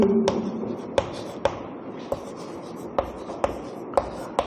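Chalk or a marker taps and scrapes across a board during a Class 10 maths lesson on heights and distances. Sharp strokes fall at a fairly regular rhythm, close and distinct, with no talk over them.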